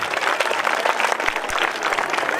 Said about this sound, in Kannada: ಜೋರಾಗಿ ಚಪ್ಪಾಳೆ